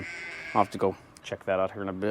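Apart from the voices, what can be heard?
sheep bleating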